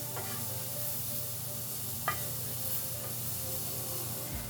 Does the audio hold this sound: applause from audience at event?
no